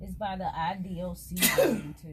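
A single sharp sneeze bursts out near the end of a short exchange on a community radio talk show, heard close right after a person finishes speaking.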